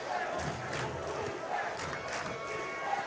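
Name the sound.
football stadium student section crowd yelling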